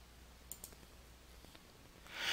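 A few quiet, sharp computer mouse clicks tick at scattered moments while a split line is dragged in a Microsoft Project 2013 window, close and faint against a near-silent background.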